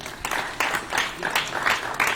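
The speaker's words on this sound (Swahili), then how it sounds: "Tuwapatie makofi kwa hiyo." An audience applauds at a session of a 2020 CVE festival. Moderately loud clapping swells in several short bursts over about two seconds.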